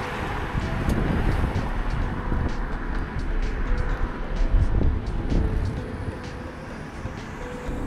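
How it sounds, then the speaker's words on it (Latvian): Strong wind buffeting the microphone on a windy October morning cycling trip in Tallinn, a continuous loud rumbling gust noise. "Vējains 3. oktobra rīts."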